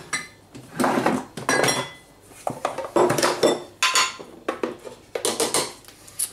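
A metal cezve, a Turkish coffee pot, is handled close up, giving a series of sharp metallic clinks and clanks in irregular bursts, with no one talking.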